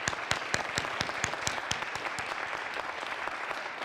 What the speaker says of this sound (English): So one more round of applause for our incredible poets.